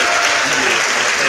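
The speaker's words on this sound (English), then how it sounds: "Let's give our brother a round of applause" Dense, loud applause from an audience at a live football talk show, continuous clapping throughout a short burst.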